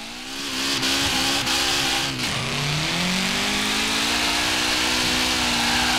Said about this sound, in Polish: Ja jak wcisnę tu gaz do dechy i tylko lekko skręcę kierownicę, to RX-7 już leci bokiem.